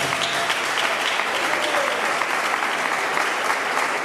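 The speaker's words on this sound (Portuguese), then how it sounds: "Aplauda ao Senhor e receba a Senhor." Congregation applauding during an evangelical church service, a steady, dense wash of many hands clapping at close range, continuous and loud throughout with no voices standing out.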